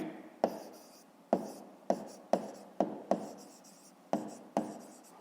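Pen strokes scratch across paper while a fifth-grade maths exercise is written out by hand, coming as a string of close, sharp taps and short scrapes at an uneven pace.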